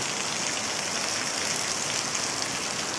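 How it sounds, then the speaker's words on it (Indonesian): Heavy afternoon rain pours steadily over a village hall, a dense, constant hiss of falling drops with no pauses. "Hujan sore ini deras sekali."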